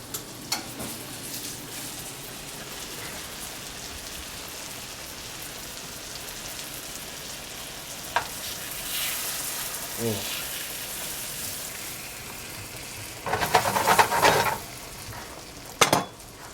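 Chicken browning to a golden coating in a hot pan, a continuous crackling sizzle with occasional clinks and stirring noises, and a louder flare of spitting oil toward the end.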